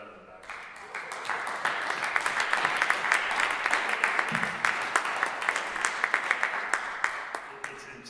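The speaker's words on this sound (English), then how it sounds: "we owe the alternates a round of applause for all the work they've done in the back" Attendees at a government study commission meeting applaud the alternates, many hands clapping steadily, with a few sharper individual claps standing out near the end.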